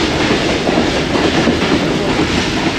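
Pak Business Express passenger train running between Karachi and Lahore, a loud steady rumble of wheels on rails heard from inside the carriage, continuous with no talking.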